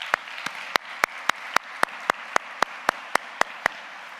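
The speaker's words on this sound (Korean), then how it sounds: "감사의 박수 한번 올려드리겠습니다." Church congregation applauding during a Korean worship service, heard as a single close, sharp clap repeating in a steady rhythm over a room hum.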